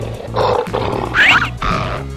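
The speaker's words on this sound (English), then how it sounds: "Lion." A lion gives three loud, close roaring grunts in quick succession, each a deep rough burst with a brief gap between them, and no talk.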